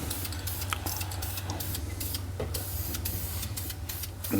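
Black high-temperature paint sprayed onto a BMW 1M brake caliper from an aerosol can, short hissing bursts over a steady low hum, fairly quiet and close.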